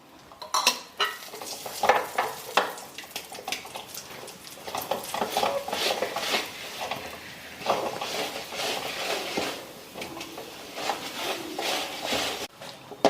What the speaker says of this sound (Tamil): இதை நெய் போட்டு கிண்ட வேண்டியதான்.